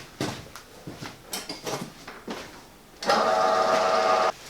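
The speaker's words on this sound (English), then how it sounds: "I'll just do that in the bandsaw" A bandsaw cuts off the protruding pins on a knife handle during a rasp-to-parang build, a loud steady whine with a harmonic tone lasting over a second, after several short clatters and knocks of handling.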